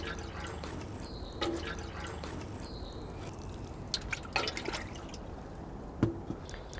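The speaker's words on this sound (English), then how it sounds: "you can give them a water and at the same time clean off the outside of your pot" Water from a watering can drips and trickles into a garden container after planting, with scattered splashes and drops, fairly quiet against a steady background.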